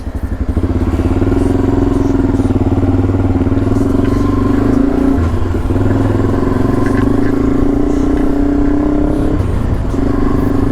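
A motorcycle engine idles loudly and close, its throbbing rumble rising briefly in a couple of revs before settling.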